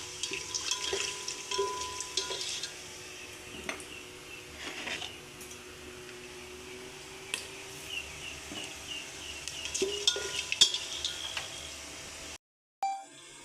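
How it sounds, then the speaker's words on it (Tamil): Whole spices crackle and pop faintly in hot oil in a pan for prawn biryani, with scattered clicks and light clatter, ending in a short silence and a brief knock. "கொஞ்சம் நல்லா பொரியட்டோங்க பொரிஞ்ச அப்புறம் வெங்காயம் ஆட் பண்ணிடலாம்"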